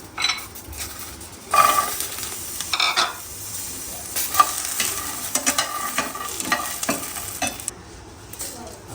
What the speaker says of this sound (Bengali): একটু তেল দিলাম, পেঁয়াজ, রসুন, কাঁচামরিচ দিয়ে এটা ভাজি নেব